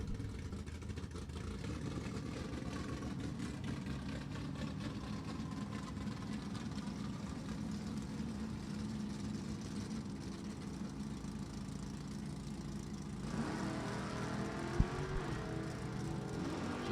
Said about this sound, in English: Jeff Warren stands on the loud pedal and gives chase